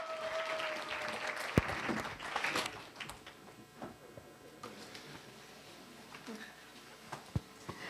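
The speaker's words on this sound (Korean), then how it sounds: "큰 박수로 맞이하겠습니다" Scattered applause from a small audience at a high school academic festival presentation, clapping loudest early then thinning to a few isolated claps, with some faint talk underneath.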